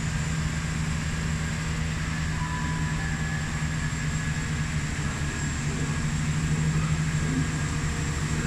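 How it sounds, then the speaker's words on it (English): A CrossCountry service departing Gloucester station for Cardiff Central, a steady low engine drone and rolling rumble, moderately distant and unbroken. "our next train to depart is a cross-country service"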